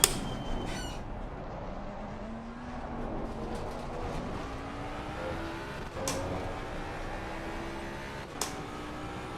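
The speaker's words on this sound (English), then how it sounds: "Hearing the car, the engine." Race car engine in a PC sim racing game, a steady droning tone rising slowly in pitch as the car accelerates, with brief sharp shift or squeal bursts at intervals and no voices.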